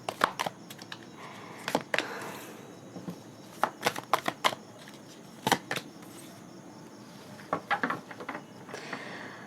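Tarot cards shuffled by hand, a series of quick crisp riffles and taps in short irregular bursts, close and fairly quiet.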